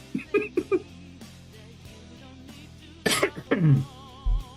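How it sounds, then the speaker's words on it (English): Several short coughs and throat-clearing bursts from a single person, close and fairly quiet, arriving in two clusters with a brief pause between them. "over here coughing my lungs out, bro"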